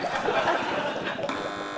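A quiz show buzzer on a TV panel comedy news show sounds as a loud, sustained electronic buzz lasting under two seconds, with a brief change in tone partway through.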